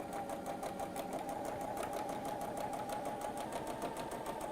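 A sewing machine stitches a seam with a steady, fast, even whirring hum and rapid needle clatter that stays level throughout, fairly quiet and close by.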